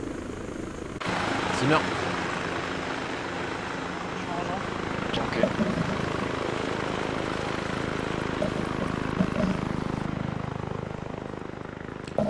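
A steady helicopter rotor drone fills the scene in the ARMA 3 military game during a convoy interception, with someone speaking French briefly over the constant whirring.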